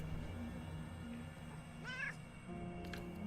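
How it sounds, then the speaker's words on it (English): A small cat in the video game UnderRail gives a single short rising meow midway, fairly faint over a steady low game soundtrack hum. "That little cat, I fucking love it."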